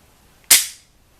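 A single sharp metallic snap rings out up close from a Sig Sauer P226 pistol's single-action trigger pull, with a quick decay and silence before and after.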